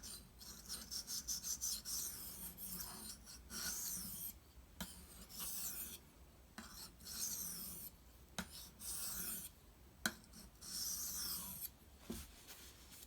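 A Benchmade Anthem knife being sharpened on a Shapton Pro 2K whetstone, with repeated raspy scraping strokes up close, each a second or so long and separated by short pauses, no talk.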